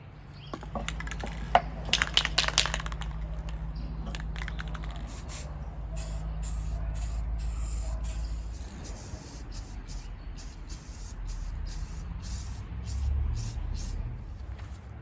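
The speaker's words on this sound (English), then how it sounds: "My spray painting technique, not very good, but it works." Hissing bursts of spray paint applied to a homemade Egyptian-style canopic jar chest, several short sprays followed by a long steady spray, with a low background hum and faint rattling.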